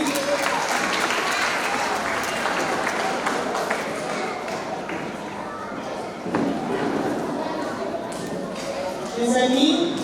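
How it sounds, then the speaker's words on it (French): Children and families at a school festival applaud, a continuous wash of clapping and crowd noise with voices mixed in throughout, swelling a little near the end. "Applaudissez les amis."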